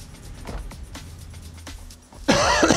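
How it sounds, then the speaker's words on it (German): One sharp cough lands hard and close on a microphone after a stretch of low background murmur and faint clicks, its burst loud and raspy against the quieter bed. "Schön ins Mikro gehustet"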